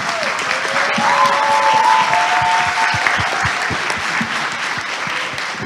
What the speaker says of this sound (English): a round of applause for the teams up front